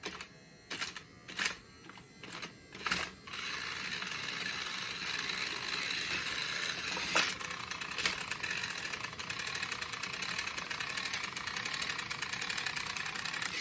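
Small electric motor of a Plarail toy train, running as a steady, even buzzing whir for about ten seconds after a few short clicks and knocks at the start.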